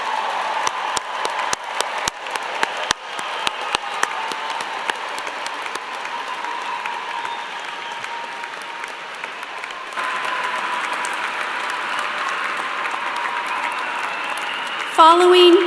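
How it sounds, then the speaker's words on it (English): A large commencement audience of families and guests at James Madison University applauds its graduates, with dense sustained clapping filling the hall, continuous and steady, swelling slightly toward the end. "Families and guests, let's give one big round of applause for all of our graduates."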